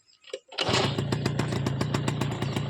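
A used motorcycle at a second-hand vehicle sale in Salem cranks briefly, then catches and settles into a steady, close, putting idle with even rhythmic firing pulses.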